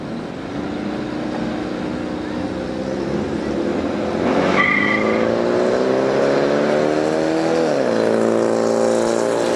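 Drag racing cars at a 2006 Silver Dollar Showdown roar together in a loud, sustained engine blast, pitch climbing through the launch and shifting near the end, with a brief squeal partway through.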